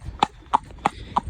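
A horse out hacking alone trots along with four crisp, evenly spaced hoof clip-clops, close and clear over low background rumble.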